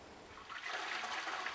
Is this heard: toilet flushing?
yes